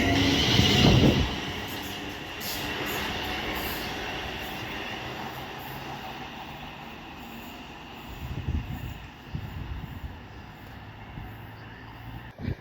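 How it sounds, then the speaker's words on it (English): Pendolino train passing through Wolverton station on the West Coast Main Line, a loud rush at the start settling into a steady rolling rumble with wheel squeal and rail clatter, then a fresh burst of rattling near the end. "passing through now is another Pendolino"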